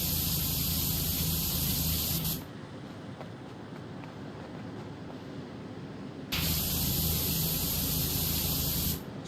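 Pressure washer nozzle spraying in PowerWash Simulator, heard as a loud, steady hissing jet in two bursts with a quieter gap between them, no talk.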